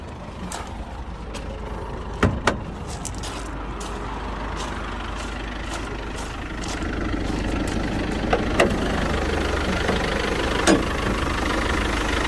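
A Mercedes 316 passenger-cargo van's diesel engine idles steadily at close range, a continuous low rumble with a few faint clicks and knocks over about twelve seconds, with no voices.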